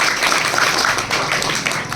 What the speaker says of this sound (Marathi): चला सगळ्यांसाठी टाळ्या होऊन जाऊ द्या